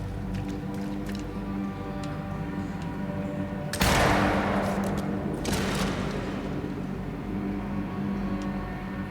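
Gunshots in a video game fired at a barrel: two loud, sharp blasts about a second and a half apart, each with a lingering rough tail, over a steady low game ambience.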